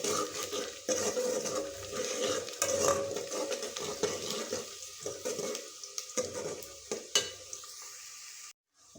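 Onions brown in a hot pan with garlic paste for a spicy potato and lentil curry, sizzling, with scraping stirs and occasional clinks of a utensil against the pan throughout.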